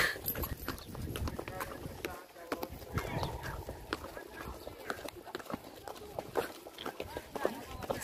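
Horse hooves clop steadily on stone paths in Petra, Jordan, a continuous irregular beat under close talk and background crowd noise.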